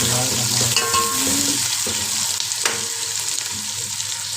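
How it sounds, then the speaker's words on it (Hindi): A quarter kilo of onion fries in hot oil for a restaurant-style chicken white karahi. A steady, loud sizzle runs throughout, with stirring scrapes over it and no voices. "ऑयल हमारा गर्म हो चुका है। एक पाव हम इसमें प्याज डालेंगे।"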